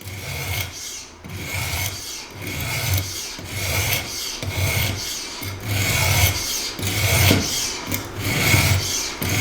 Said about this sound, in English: And I'm sharpening a Gerber that I've had for a very long time.